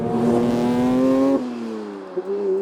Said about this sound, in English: this engine, as it is, represents everything that is great about the internal combustion unit